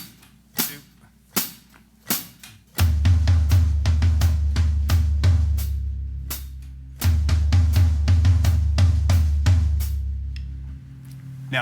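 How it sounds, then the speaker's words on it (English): Drum kit playing a triplet rhythm: a few isolated hi-hat count-in strikes, then rapid dense kick and tom hits with sharp cymbal accents, loud and close. "we are starting off with that triplets. I'm going to count us in with our hi-hats first."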